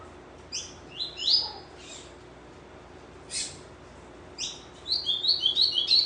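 Capped seedeaters (papa-capim) sing a series of bright, high chirps and quick warbling phrases, with a short burst early and a longer run of rapid trills near the end, close and fairly clear over a faint background hum.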